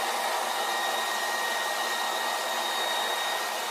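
A blow dryer running steadily at full power, a loud, constant rushing whoosh with a faint high whine, no voices.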